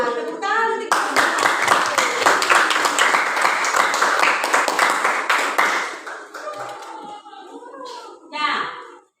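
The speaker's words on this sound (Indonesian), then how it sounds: "tepuk tangan untuk kita" A classroom of students claps their hands in a fast, dense burst that lasts several seconds and then tapers off, while children's voices and an adult talking come in over and after the clapping.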